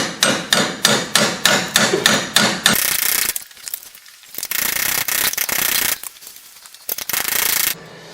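Hammer blows on a Ford Explorer rear wheel bearing hub, a quick run of about eight sharp metallic strikes followed by longer grinding, scraping bursts separated by short pauses, close and loud.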